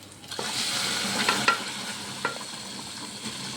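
Cooked drumstick pods tipped into hot, oily masala set off a steady close sizzle and frying hiss, with a few sharp stirring clinks and scrapes near 1.5 s and 2.3 s.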